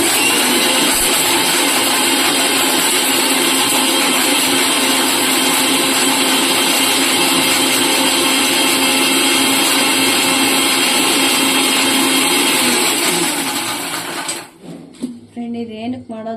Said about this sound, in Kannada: ಇವಾಗ ಮಿಕ್ಸಿ ಮಾಡ್ಕೊಳ್ಳೋಣ ಫ್ರೆಂಡ್.